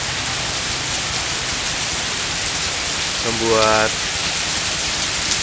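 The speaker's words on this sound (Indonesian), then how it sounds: "Air hujan membasahi kota Jogja dengan begitu derasnya" Heavy rain pours down over Yogyakarta, a thick, constant roar of falling water, with a brief tonal sound briefly cutting through past the midpoint.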